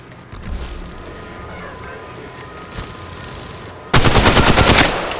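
A loud burst of rapid automatic gunfire from Apex Legends Mobile rattles out near the end, after quieter ambient game sounds and a couple of faint distant shots.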